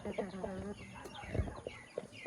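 Shamo and Rhode Island mixed-breed chickens cluck softly in short bursts close by, with a faint voice murmuring in the background.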